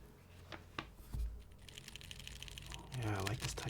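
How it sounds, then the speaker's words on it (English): Soft, muted keystrokes from a mechanical keyboard with silent MX Zilent switches in a half-plate poly build, tapping in quick irregular bursts while people talk over them. "But it feels very comfortable to type on. With this half plate poly configuration, plus the softness of the MX Zilents."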